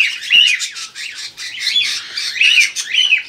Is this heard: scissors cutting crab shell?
no